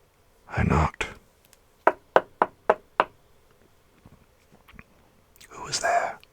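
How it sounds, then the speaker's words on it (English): Five sharp knocks on a cottage door in an evenly spaced run, fairly close and distinct, with soft breathy whispering before and after in a quiet room. "I knocked."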